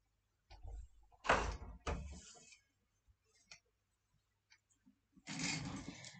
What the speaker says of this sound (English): Let me close the door for 1 second, please, before I start.